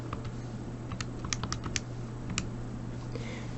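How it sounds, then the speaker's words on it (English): Quick plastic key presses on a calculator as a function is entered, a scattered run of light clicks in irregular rhythm, close by over a steady low electrical hum, with no talking. "So 100, storing for X, and type in my function."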